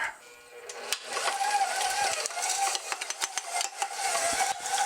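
Butter being creamed with granulated and brown sugar for snickerdoodle cookies, a utensil scraping and clacking against a bowl in quick irregular strokes, close and moderately quiet, with a voice talking over parts of it.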